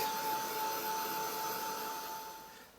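An electric heat tool blows a steady, loud whooshing hum with a faint whine as it dries a mixed media art journal page. The noise stays even throughout and eases slightly toward the end.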